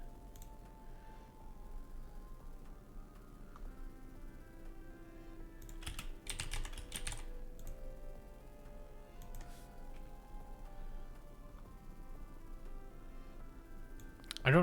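Scattered keystrokes on a computer keyboard covered by wires, soft clicks with a brief flurry in the middle, faint under ongoing talk.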